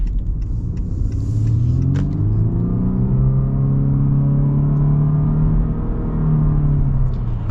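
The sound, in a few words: 2021 Honda Insight Touring accelerating in automatic mode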